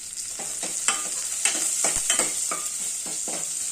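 Crushed garlic frying in hot oil, with asafoetida stirred in, for a fenugreek-leaf lentil curry: a steady close sizzle with repeated scraping stir strokes, no voices.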